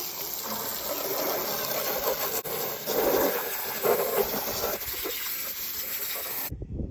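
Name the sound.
water washing off a Suzuki Quadsport LT80 ATV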